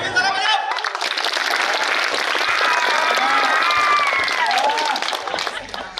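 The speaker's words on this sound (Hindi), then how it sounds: "कुछ लोग संजय दिल खोल के तालियां बजाते हैं" A stage-show crowd claps loudly and steadily throughout, a thick wash of hands with a few voices and cheers rising inside it, easing slightly near the end.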